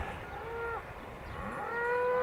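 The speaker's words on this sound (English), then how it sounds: "there's a cow over there as well" Cow by a river giving two drawn-out moos, the second longer and rising, heard at moderate distance over quiet outdoor background, with no talking.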